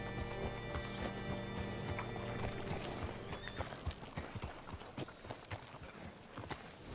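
Horse hooves clip-clop steadily in Red Dead Redemption 2, close and busy over a dense game soundscape, with a brief neigh mixed in.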